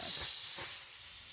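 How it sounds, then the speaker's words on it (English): A heavy steam iron held in a sewing setup gives off a continuous close, loud hiss of released steam, steady throughout with slight swells and a couple of soft low thumps underneath. "And anytime I want steam, and I can also steam it in an upright position"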